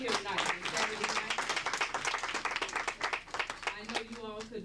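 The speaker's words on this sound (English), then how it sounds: "I think you all should keep clapping" A seminar audience applauds at an evening event in New York City, with a steady patter of clapping running under a speaker's voice from start to finish.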